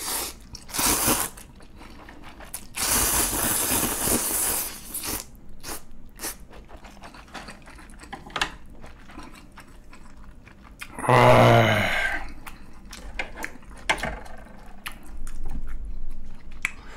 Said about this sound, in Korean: 먹어보도록 하겠습니다.